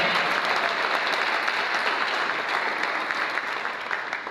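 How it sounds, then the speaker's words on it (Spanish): Church congregation clapping steadily during a worship service, a dense, even applause that holds for several seconds at moderate loudness with faint voices underneath. "Voy a aplaudir al Señor."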